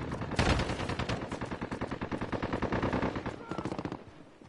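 Rapid machine gun fire in a gun game mode of a video game: a steady, fast rattle of shots with a few louder bursts, fairly quiet overall and tapering off at the end.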